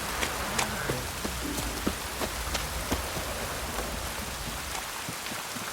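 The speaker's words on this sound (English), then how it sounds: "Oh, it's drizzling." Light drizzling rain in The Witcher 3, a steady soft hiss of falling rain with scattered sharper droplet ticks throughout, fairly loud and even, without voices.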